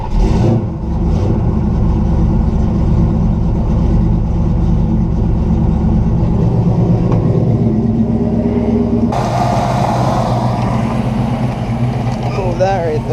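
Engine of a 1969 Buick Special Deluxe idling low and steady, a close continuous rumble that holds throughout and grows a little brighter near the end, with a voice briefly speaking over it.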